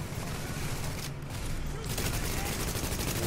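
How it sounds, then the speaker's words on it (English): Sustained suppressive gunfire in The Division shooter game, a dense unbroken clatter of shots filling the whole stretch at steady loudness, briefly thinning for a moment midway. "Suppression fire."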